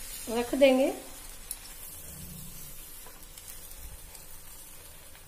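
Butter sizzling on a hot tawa under bread pizza topped with vegetables, a steady soft frying hiss that stays close and fairly quiet, with a brief spoken phrase at the start.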